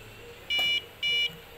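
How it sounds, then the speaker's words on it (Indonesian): An electronic buzzer driven by an STM32F41 microcontroller sounds after a push-button timeout, giving two short, clear high-pitched beeps in quick succession over faint room hiss. "dan dapat lihat suara buzzernya telah terdengar"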